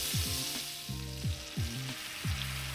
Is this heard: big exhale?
no